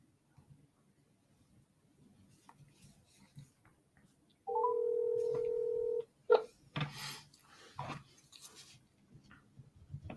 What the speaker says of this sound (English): So now it's time to dial the number.